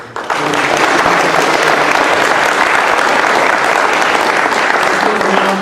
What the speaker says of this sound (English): we all owe her an enormous round of applause.